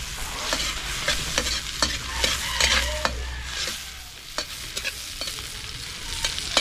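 Tomatoes fry in a hot pan with loud, continuous sizzling while a spoon stirs and knocks against the metal in irregular clacks, close up and without talk.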